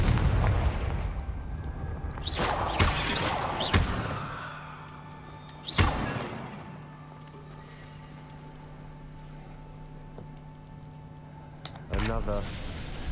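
Confringo fire-blast spells in Hogwarts Legacy go off as several sharp bursts spread across the stretch, each with a brief roaring tail, while a low game hum and some voice sounds run underneath.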